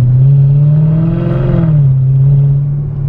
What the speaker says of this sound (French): ça fait déjà un super bruit de V8